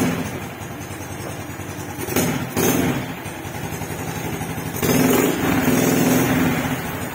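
Rusi Raider J115Fi motorcycle engine running at a steady idle after a stator repair, a close, continuous clattering mechanical hum with slight surges in loudness partway through.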